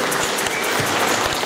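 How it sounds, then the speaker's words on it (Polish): Applause follows a Christmas carol at a carol concert in a church, a brief burst of many hands clapping, dense and fairly loud, with no talk over it. "brawa dla tej świętej kolędy"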